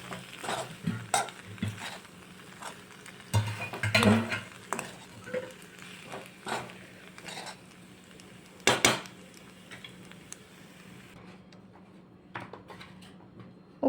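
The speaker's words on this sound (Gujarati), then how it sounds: "હવે હું બધું મિક્સ કરી લઈશ" Pasta being stirred and mixed in a pan on a gas stove: repeated scraping and clinking of a utensil against the pan, irregular and close, with faint sizzling underneath and a few sharper knocks.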